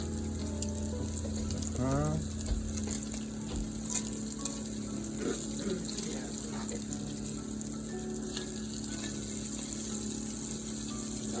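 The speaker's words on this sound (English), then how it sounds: "Stir a little bit more here." Food sizzles gently in a pan while a utensil stirs it, with a low steady fry hiss, light scraping and clinks and a faint kitchen hum underneath, no talk over it.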